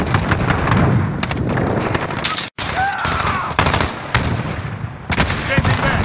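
Rapid automatic gunfire and sharp shots in Call of Duty: Modern Warfare (2019), loud and close, in dense bursts broken by brief pauses, with faint radio-style voices mixed in.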